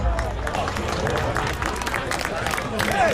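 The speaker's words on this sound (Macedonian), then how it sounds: "Аплауз." A crowd applauds at a motorcycle gathering, with dense, steady clapping throughout and a murmur of voices underneath.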